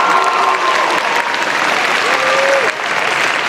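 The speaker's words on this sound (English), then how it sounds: "Can you give them a little bit more applause?" Loud, sustained applause and cheering from a large crowd at an anime convention cosplay masquerade contest, a dense wash of clapping filling the hall with a faint voice over it.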